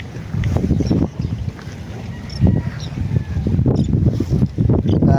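Strong typhoon winds from Typhoon Pepito buffet the microphone in loud, uneven gusts, a steady rushing roar with harsh surges throughout.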